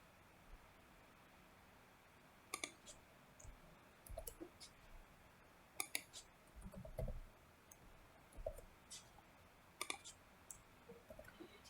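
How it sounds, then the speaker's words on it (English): Quiet, close typing on a computer keyboard, with scattered clicks and short bursts of keystrokes at an irregular pace over a faint background hiss. "by typing in set like this."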